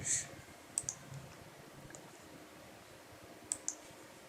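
A computer mouse clicks a few times on a website, faint isolated clicks in pairs spread apart over a quiet background.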